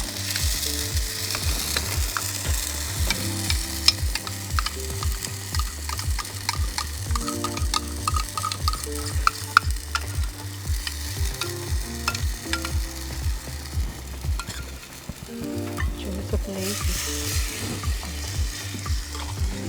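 Ground masala frying and being stirred in a pan for Coorg-style mushroom curry, a steady close sizzle with rhythmic scraping strokes throughout.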